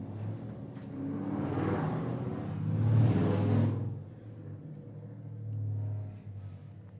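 A car pulls away outside, its low engine rumble swelling and fading over several seconds with a faint second rise near the end, heard at a distance with no talk.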